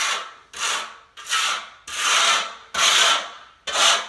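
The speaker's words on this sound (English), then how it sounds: "I use this trowel, the float to spread it, and then this to clean it out" Float trowel spreads self-leveling cement across a floor in six rough, scraping strokes, each a gritty sweep separated by short pauses, close and alone.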